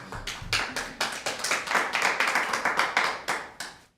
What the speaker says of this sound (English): I love the applause every time.